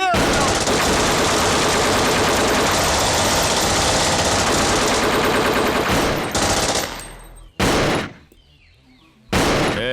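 Heavy automatic gunfire in a dramatic film scene roars loud and continuous for about six seconds, then breaks into two short, sharp final bursts separated by near silence.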